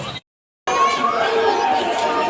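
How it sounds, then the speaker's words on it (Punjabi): Busy crowd chatter at a fair, many overlapping voices in a dense, continuous murmur after a brief cut to silence. "ਕਾਫੀ ਜ਼ਿਆਦਾ ਭੀੜ ਹੋ ਗਈ"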